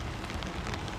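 Steady outdoor rain at a live property auction, a dense, even hiss of drops falling on surfaces that holds constant throughout the second.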